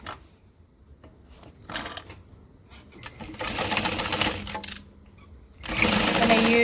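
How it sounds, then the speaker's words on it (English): A sewing machine stitches across the top of a hobo bag's side pocket, starting with quiet handling noises and then running in two loud, steady buzzing bursts close by, the second one longer. "And we'll sew across the top."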